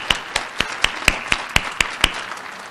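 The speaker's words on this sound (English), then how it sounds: "So please give a round of applause for our faculty and staff at the college" Slow, evenly spaced handclaps, about nine distinct claps from one or a few nearby people, applauding college faculty and staff at a December graduates recognition ceremony.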